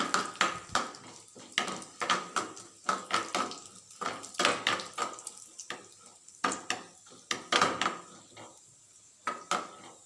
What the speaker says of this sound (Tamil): இப்போ நெய் சூடாயிருச்சு. முந்திரி பருப்பை சேர்த்து வறுத்து எடுத்துக்கலாம்.